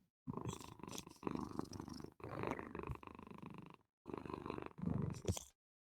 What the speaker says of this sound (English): Oh, we get such quality purrs.